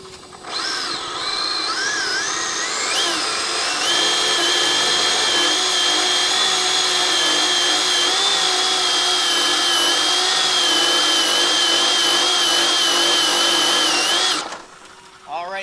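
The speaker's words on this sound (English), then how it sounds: "let's try out a burnout on the carpet" Traxxas DR 1969 Chevy Nova SS RC drag car fitted with new no-prep drag tires doing a burnout on carpet, a loud electric motor whine rising in pitch and then holding a high, steady scream for about ten seconds before cutting off.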